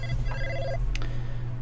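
In the Blade Runner video game, a phone gives a short electronic ring over a low, steady hum. A brief click follows near the end.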